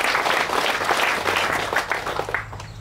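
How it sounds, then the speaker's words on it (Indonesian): An audience at a Malaysian palm oil briefing claps loudly and steadily, a dense crowd applause that slowly tapers off toward the end, with a low hum underneath. "Beri tepukan yang sangat-sangat gemuruh kepada beliau."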